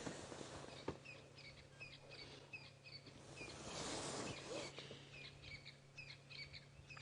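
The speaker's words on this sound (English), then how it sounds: "You can hear all the other birds waking up this morning too." Several birds chirp and call at dawn in the African bush during a safari drive, short repeated high chirps at moderate distance over a soft insect hum and quiet background.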